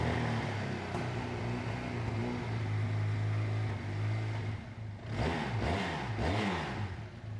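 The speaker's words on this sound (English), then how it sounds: "If you need to use some throttle, just give it a little bit of throttle like that." A 400cc cruiser motorcycle engine runs steadily with a low rumbling hum, then takes a few short blips of throttle that rise and fall in pitch near the end, close and loud with no talk.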